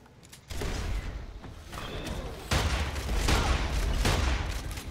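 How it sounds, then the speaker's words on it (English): A rocket launcher fires in the video game Immortal Redneck, heavy booming blasts with rumbling explosions and clattering combat noise layered across several seconds. "It's a fucking rocket launcher."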